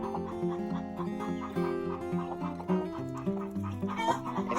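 Several chickens cluck and murmur close by inside a chicken coop, a busy overlapping chorus of short calls running continuously with no talk.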